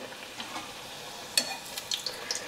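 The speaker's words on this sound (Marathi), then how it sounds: "तेलाच्या टेम्परेचरचा अंदाज आला म्हणजे मग पुऱ्या व्यवस्थित तळल्या जातात" Puris frying in hot oil for a sweet syrup-soaked puri, a soft steady sizzle with faint crackles and small bubbling pops, close and quiet with no talk.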